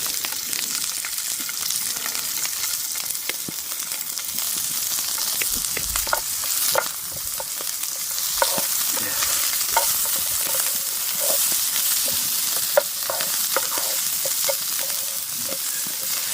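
Chicken noodles frying in oil in a pan over an open fire pit, Singapore style: a steady loud hiss and crackle with scattered pops and occasional utensil knocks, close up and continuous, no voices.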